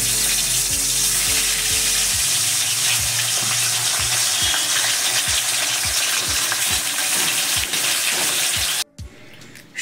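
Bhetki fish frying in hot oil, a loud, steady sizzle that stays close and continuous, with scattered light taps and a low hum underneath, cutting out abruptly near the end.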